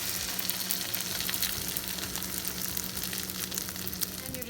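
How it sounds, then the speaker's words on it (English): Buttered French toast frying in a hot pan gives a steady, close sizzle with a dense, even crackle that holds throughout, with no voices. "Just going to grease the pan a bit, and then throw that piece of French toast on there."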